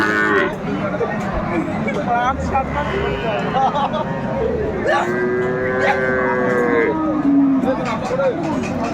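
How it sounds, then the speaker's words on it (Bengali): Cattle moo repeatedly at a busy Dinajpur livestock market where Friesian and crossbred bull calves are sold, long drawn-out bellows rising over steady crowd chatter and people talking nearby. "বেশ সুন্দর গরুটি"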